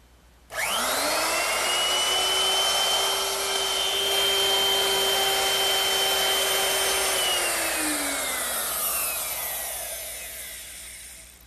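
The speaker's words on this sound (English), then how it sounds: "I'm going to use my router with a straight cutting bit and a fence" A router with a straight cutting bit and a fence takes a pass along wood for a trestle table. Its motor kicks on abruptly into a loud, steady whine that holds for several seconds, then winds down slowly, with no talk.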